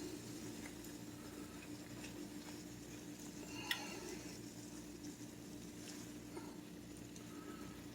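Steak and eggs get stirred in a frying pan, a faint, steady sizzle with soft scraping and occasional light clinks of a utensil against the pan, no voices.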